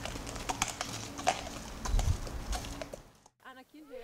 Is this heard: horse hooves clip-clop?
yes